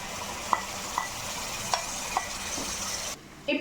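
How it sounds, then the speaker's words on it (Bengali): Spice paste mixed with a cashew, raisin and poppy seed paste fries in a pan for chicken roast. A continuous loud sizzle runs throughout, with a few light clinks of a stirring spoon, and it quiets briefly near the end. "মশলাটা কষা হয়ে গেছে, এবার আমি এর মধ্যে বাদাম, কিশমিশ, পোস্ত যে পেস্ট করে রেখেছি ওটাও দিয়ে দেব।"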